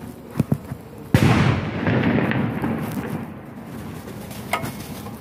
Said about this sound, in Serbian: pukove vatromet ili neka ogromna petarda, jadna mačka se uplašila